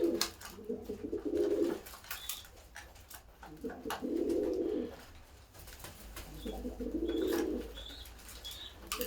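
Pigeons coo in a backyard coop, three rolling low coo phrases spaced a few seconds apart, close by, with faint chirps and occasional wing or cage rustles between them.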